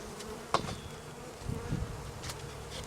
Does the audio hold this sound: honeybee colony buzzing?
yes